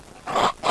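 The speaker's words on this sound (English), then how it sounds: "My ringtone is a barking sound." A phone ringtone of a dog barking plays two short, loud barks in quick succession.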